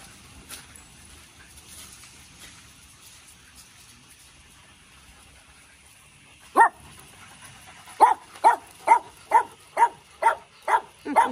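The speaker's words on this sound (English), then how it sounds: "Your whole body moves when you bark." A dog barking at home: one sharp bark, a short pause, then a steady series of eight evenly spaced, loud, close barks.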